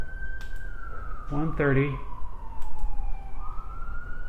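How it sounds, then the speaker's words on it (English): Emergency sirens blare outside, a long steady wail sliding slowly downward and then rising again, moderately distant beneath a short burst of nearby talk. "Oh, the sirens are blaring again."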